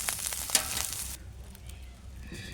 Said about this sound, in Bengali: চিংড়ি মাছটাকেও আমি হালকা একটু ভেজে নেব।